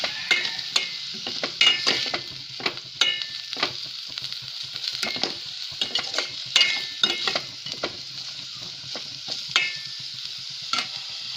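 Tomatoes cook in a pan for a porridge, giving a steady sizzle under repeated scraping and stirring strokes of a spoon against the metal.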